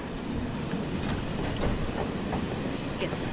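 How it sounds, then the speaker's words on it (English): A train rolls along steadily in Final Fantasy VII Remake, giving a continuous rumbling clatter with faint rhythmic wheel clicks and light metallic squeals. "This is a much different looking train."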